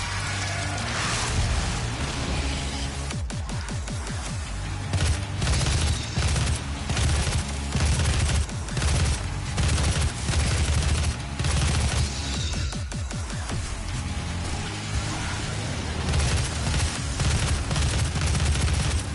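In the 2016 Doom video game, a rocket launcher and other guns fire continuously in loud bursts of shots and booming blasts, all over a steady, heavy rumble.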